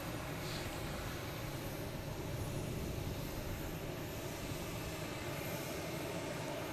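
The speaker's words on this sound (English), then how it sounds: "next to come in is a Legion Airlines, an A320" An Airbus A320 airliner arriving at Boston Logan Airport gives a steady, distant jet rumble, a broad low roar that holds level throughout with no talk.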